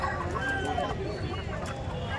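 Pure country chickens and roosters cluck and call at a rooster market during the Sankranti festival, several birds close by, mixed with a person talking.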